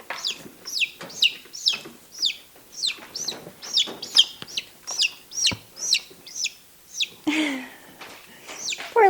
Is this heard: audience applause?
no